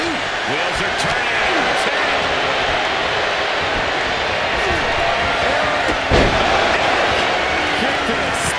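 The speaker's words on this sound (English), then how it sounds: "Listen to this crowd." Loud, dense arena crowd roar from a WWE 2K25 Royal Rumble wrestling match, steady throughout with scattered impact thuds and a sharp slam near the end, a commentator talking over it.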